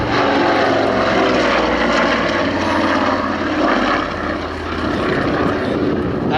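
A de Havilland Dragon Rapide propeller biplane flying at an air display at Shuttleworth, its engines droning loud and steady throughout with a slight dip as it passes.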